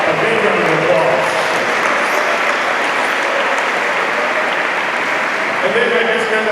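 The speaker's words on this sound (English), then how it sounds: "let's give those guys a big round of applause" An audience at a freshman orientation closing ceremony breaks into sustained applause, loud dense clapping from a large crowd lasting several seconds without pause.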